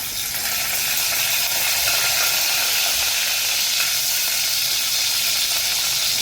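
Curry leaves crackle and sizzle in hot oil in a pan, a loud, dense, steady hiss that runs unbroken from start to end, close by with no talking.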